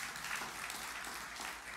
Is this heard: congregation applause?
yes